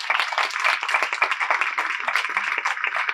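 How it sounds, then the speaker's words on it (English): An audience at a youth disarmament panel aboard a ship claps for a Nobel Peace Prize–winning campaign, a steady, moderately loud round of applause with dense overlapping hand claps throughout. "Let's have a round of applause for ICAN."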